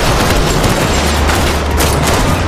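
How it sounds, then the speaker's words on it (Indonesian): Gunfire at a shooting practice crackles in a dense, loud, continuous barrage of overlapping shots with no pauses, filling the whole stretch. "mereka semangat berlatih menembak."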